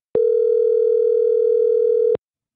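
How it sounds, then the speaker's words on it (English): A telephone ringback tone from a SIP phone call, one steady unbroken electronic tone about two seconds long, loud and clean, starting and stopping abruptly with silence around it. "Usually this is with familiar ringback tone."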